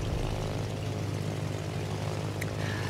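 German carrier planes in World of Warships drone on their propeller engines, a steady, even hum with a continuous low throb and no voices.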